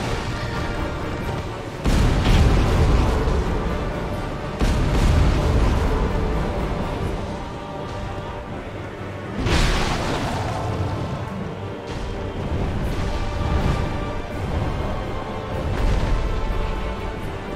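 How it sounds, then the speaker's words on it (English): Dragon's fire breath attack in the video game Dark Souls 2: loud roaring, rumbling blasts in several bursts with sustained fiery rushes between them, close and dominant. "fire breath."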